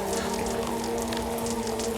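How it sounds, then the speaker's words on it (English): Steady rainfall after a heat wave, dense patter of drops on surfaces filling the scene evenly and continuously with no voices. "After days of unbearable heat, the first rainfall arrives"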